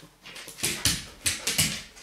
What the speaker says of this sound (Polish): Czy pies się może uspokoić?